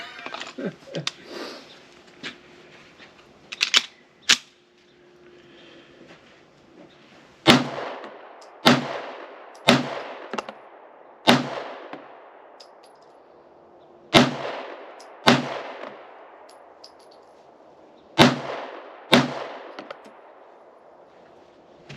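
A Shadow Systems MR920 Elite pistol running a 15-round OEM Glock magazine fires loud, close, sharp reports, first a few scattered shots with handling noise, then steady spaced single shots echoing outdoors.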